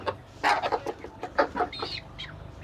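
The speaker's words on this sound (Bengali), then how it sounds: "মুরগিগুলো খাইতেছে, মুরগিগুলো দৌড়াদৌড়ি করতেছে।" Free-range desi chickens cluck in short bursts while feeding, several birds close by, with a few higher squawks.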